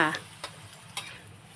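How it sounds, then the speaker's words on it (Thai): Mama instant noodles being stir-fried in a drunken-noodle style, a soft background sizzle broken by a few distinct spatula taps against the pan; a brief voice is heard at the very start. "แล้วเราก็จะผัดผัดผัดอีกรอบนึง ผัดคนให้เข้ากันค่ะ"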